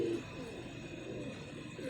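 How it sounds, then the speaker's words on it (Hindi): Pigeons kept as a hobby loft flock coo softly at close range, a low steady murmuring that runs unbroken over a quiet background with no voices. "और पक्की आँखों के ये कबूतर हैं भाईजान।"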